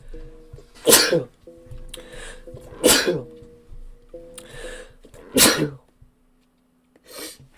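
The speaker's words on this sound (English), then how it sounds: "I gotta sneeze." Several loud, sharp sneezes close up, spaced a second or two apart, with breathy catches between them and a brief quiet pause before the last.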